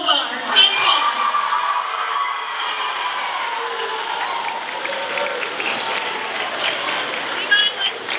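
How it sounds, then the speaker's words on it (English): Audience applause fills a school spelling bee, a sustained wash of clapping from a crowd with scattered voices mixed in, steady throughout. "let's give a big round of applause again for Nova, our champion."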